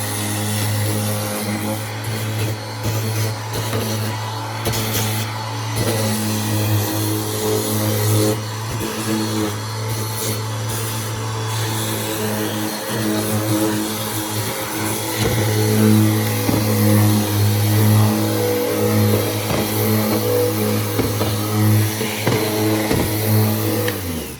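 An electric sander runs continuously on painted cabinets, giving a loud, steady motor drone with a strong low hum, close up and lasting throughout without talk.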